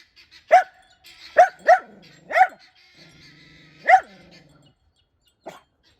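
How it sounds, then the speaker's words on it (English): A dog barks repeatedly at guinea hens on a country farm, giving about five sharp, moderately close barks in an uneven rhythm, with a few softer whimpering tones between them and no talking. "That bad dog. Look at that bad dog."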